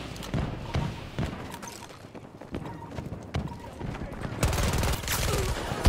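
Gunfire rattles in Battlefield 2042 on PC, with scattered sharp shots and short bursts that grow denser and louder toward the end over background game noise.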